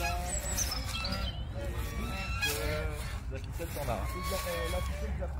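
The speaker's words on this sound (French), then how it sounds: "Puis vous en entendez cancaner des belles oies." A flock of geese honking and cackling over each other continuously, loud and close, with a person's voice mixed in.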